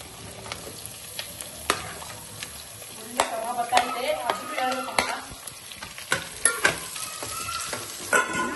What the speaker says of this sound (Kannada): ಈಗ ಗೋಲ್ಡನ್ ಬ್ರೌನ್ ಆಗೋವರೆಗೂ ಫ್ರೈ ಮಾಡಬೇಕು